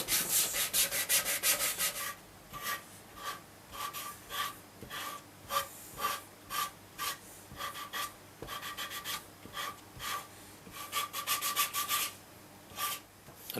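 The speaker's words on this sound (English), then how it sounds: "you take some sort of sanding thing" Hand sanding on the wooden body of a handmade guitar to blend in the edge radius, heard as rhythmic, close, scratchy back-and-forth strokes in uneven bursts with short pauses between them, without any talking.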